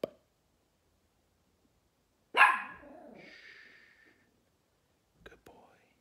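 A pup gives one sharp bark near the microphone, then a short whining growl, and a faint yelp follows a few seconds later after long silence.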